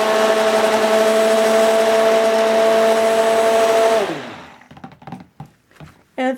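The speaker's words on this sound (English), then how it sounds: "Go ahead and stick my stick blender in here." A stick blender whirs steadily for about four seconds as it mixes beef tallow soap, then winds down and stops, followed by a few soft knocks and clunks.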